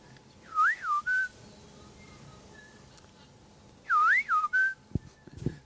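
A man whistles a rallying call across a forest twice, each a short rising-and-falling warble followed by a steady note, clear against quiet woodland with a few soft knocks near the end.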